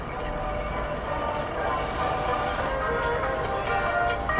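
A Seoul Line 3 subway train rumbles steadily in a dense, continuous roar of wheels and carriage noise, with a brief brighter swell partway through.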